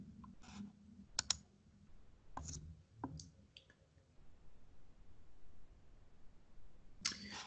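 Mouse clicks in data-mapping software, a few sharp isolated clicks spread irregularly across a quiet room background, close and fairly faint, with no talking.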